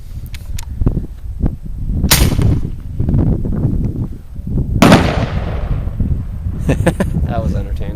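Mossberg 500 shotgun firing 12 gauge bird bombs outdoors, several sharp loud blasts and bangs spaced a couple of seconds apart, with people talking between and under the shots.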